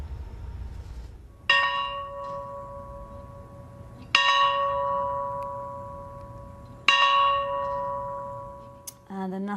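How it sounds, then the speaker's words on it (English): A historic farm bell at a childhood home in Plains, struck three times at an even, slow pace, each loud clang ringing out and fading before the next. "the National Park Service saluted President Carter and rang the historic farm bell"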